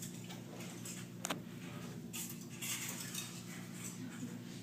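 Plates and cutlery clink softly as they are set on a table, with a couple of sharper taps standing out against a quiet room hum.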